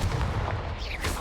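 A Confringo blasting spell fires in a video game, producing a loud, booming explosive burst over a rumbling, noisy background.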